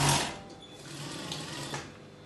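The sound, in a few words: sewing machine sewing a dress sleeve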